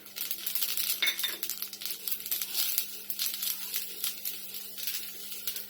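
Roasted dry fruits for methi laddu are stirred in a pan, giving continuous close crinkly rustling and light clinking scrapes with a steady low hum underneath, no voices.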